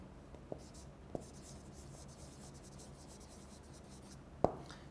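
Chalk or marker writing on a board during a lecture, a few faint taps and strokes with one sharper knock near the end, heard against low room noise.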